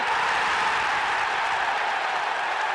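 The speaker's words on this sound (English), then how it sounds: "And the crowd rising in expectation." Football crowd at an Arsenal match roaring steadily as the team attacks, a dense, continuous wash of cheering heard loud and distant with no pauses.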